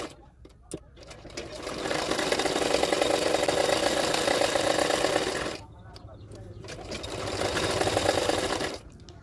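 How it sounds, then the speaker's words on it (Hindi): A sewing machine runs in two loud, close bursts as it stitches a blouse sleeve to its lining fabric, with a short pause and handling noises between runs. "अभी ये दोनों पार्ट को इस तरह से रखते हुए और एक सिलाई कर दूंगी।"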